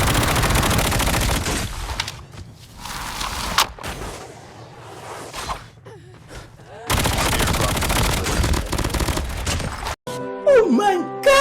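Video game gunfire crackles in dense, loud bursts with brief pauses between volleys, mixed with other game sounds and a short squeaky tonal effect near the end.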